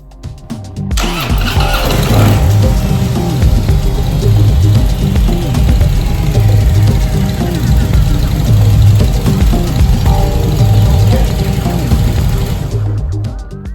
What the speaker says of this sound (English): I'll turn on the bike.